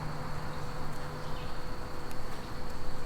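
Honey bees buzz around a hive being installed from a nuc, a dense continuous hum from many insects with a few nearer individual passes.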